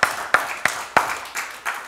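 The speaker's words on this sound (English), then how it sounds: "Give the Lord a hand clap" A church congregation claps in praise, six distinct hand claps in a steady rhythm about a third of a second apart, each sharp and close with a short ring in the room.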